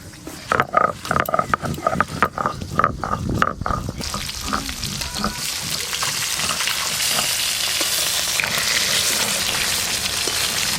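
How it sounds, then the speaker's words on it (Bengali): Irregular bursts of crackling and popping, then a dense, continuous sizzle as pieces of catla fish fry in hot oil, loud and close. "এবার মাছগুলো ভেজে নেব।"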